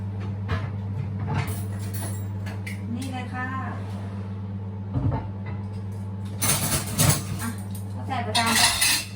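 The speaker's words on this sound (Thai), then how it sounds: "เดี๋ยวเรา เตรียมจานไปเลยนะคะ" Plates and cutlery clink and scrape in a home kitchen while eggs cook in a microwave, with a steady low appliance hum underneath and a few louder bursts of dish clatter near the end; someone talks throughout.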